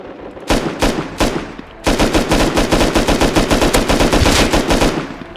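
Automatic gunfire in the survival video game Rust, a short burst followed by a longer rapid volley of close, loud shots fired in quick succession.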